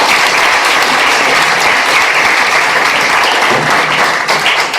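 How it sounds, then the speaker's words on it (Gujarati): An audience at a seminar for class 10 and 12 girl students in Junagadh claps together in loud, sustained, dense applause that fills the whole stretch with no pause. "એટલે એને આપણે તાળીઓથી વધાવો।"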